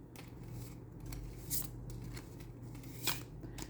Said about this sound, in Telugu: షఫుల్ చేసి మనం ఒక 6 కార్డ్స్ తీసుకుందామండి